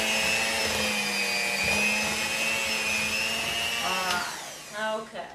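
Electric hand mixer whirring through thick vegan pumpkin cookie dough, a steady close motor whine that strains and shifts pitch before winding down near the end, with a voice faintly present.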